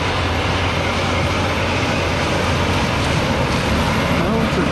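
Big Steiger 400 tractor working a dusty spring field, a loud, continuous engine roar with a dense, broadband rumble that holds steady the whole time, close by and with no speech.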